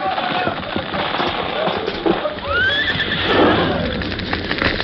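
Horses neighing loudly in an old radio drama fire scene, one long whinny rising and falling over a dense roar of crackling flames and rumbling background.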